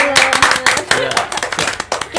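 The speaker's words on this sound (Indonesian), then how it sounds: "Tepuk tangan dulu dong." A small group claps by hand in quick, uneven bursts, close and lively, with people talking and laughing over it.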